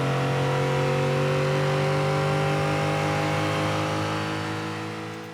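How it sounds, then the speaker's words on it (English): A recorded V8 engine sweep: a continuous, steady engine drone with strong harmonic tones, revving smoothly across the run before cutting off abruptly at the end, heard alone. "we're going to be using this engine sweep to demonstrate, which I know comes from a V8 engine"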